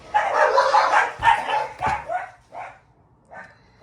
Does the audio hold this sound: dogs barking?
yes